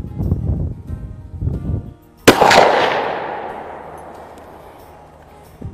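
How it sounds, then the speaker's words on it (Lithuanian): A single loud gunshot from a smoothbore shotgun firing a slug, a sharp crack followed by a long rolling echo that fades over several seconds outdoors, preceded by someone talking. "Dabar padarėm iš to pačio atstumo šūvį iš lygiavamzdžio šautuvo su kulka"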